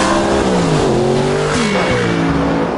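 An Audi R8 sports car accelerates hard, its engine loud and close, revving in rising sweeps as it shifts through gears, with a hint of tire noise.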